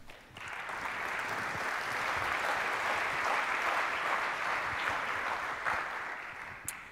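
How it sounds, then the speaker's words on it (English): A room of attendees at a business presentation applauds a presenter, steady dense clapping that swells and holds for several seconds at a moderate distance before tapering off with a final few claps. "Give Isaac a hand of applause"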